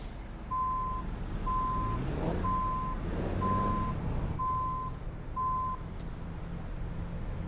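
Truck reversing alarm in American Truck Simulator, six evenly spaced steady beeps over a low engine rumble, clear and fairly loud, with no voices.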